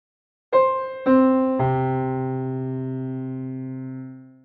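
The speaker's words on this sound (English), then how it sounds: "I'm going to go down a few octaves so we can hear the chord progressions a little bit better." Three synthesizer notes or chords enter one after another, each entering about half a second apart, then ring out together in a long sustained tone that slowly fades.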